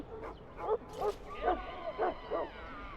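A Mabari war hound in Dragon Age: Origins lets out a string of short yips and barks, about five bursts over a few seconds, at moderate volume over a low background hum.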